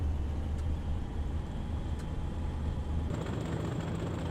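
Low steady engine burble of a BR Class 40 diesel locomotive in Train Simulator 2016, a continuous deep throb sounding close, with a faint tone rising in the last second and no talking.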